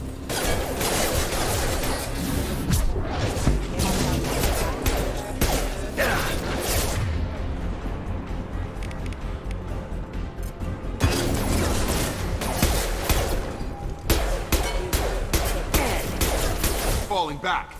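Rapid gunfire bursts from the video game Mass Effect 2 crackle in dense, overlapping volleys with mechanical clatter, pausing briefly midway before resuming, all under steady game noise and occasional talk.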